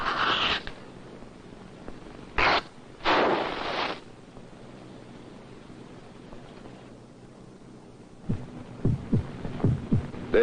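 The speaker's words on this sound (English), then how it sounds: "This is the sound of heart." A recorded human heartbeat produces soft, low, rhythmic thumps over a faint hum. The evenly spaced beats come through most clearly near the end, after a few brief louder bursts of noise earlier on.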